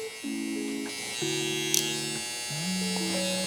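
Electric hair clippers fitted with a half guard trim a beard, giving a steady close buzz whose pitch shifts between passes, with a few brief clicks and no talking.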